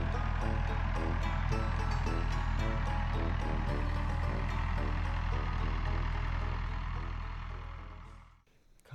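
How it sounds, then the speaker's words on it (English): A farm tractor engine rumbles steadily at low pitch, loud and constant before fading away toward the end, with no voices. "Sounds like Dad's coming with the tractor, so we'll see what the deer think."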